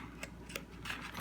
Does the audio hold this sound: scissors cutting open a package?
yes